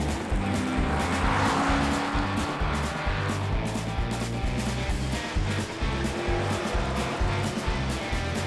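Cartoon race car speeding along a road, a continuous engine roar with repeated rhythmic pulses and occasional tire squeals and skids, loud and close throughout with no talking.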